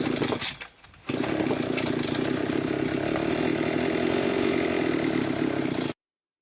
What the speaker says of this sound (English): you can try starting the brush cutter.